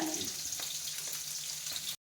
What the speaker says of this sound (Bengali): এদিকে কাতলা মাছ ভাজা হচ্ছে